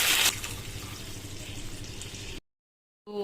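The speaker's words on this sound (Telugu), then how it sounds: "ఇప్పుడు ఇలా అంతా కలిపి పెట్టుకున్న తర్వాత 2 గ్లాసుల వరకు వాటర్ వేసుకుందాము." Water pours into a pot for a mixed flour vegetable soup, a close, steady splashing rush for a couple of seconds that cuts off abruptly into silence.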